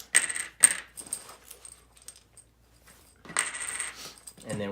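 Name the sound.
coins drawn for Coin & Crown board game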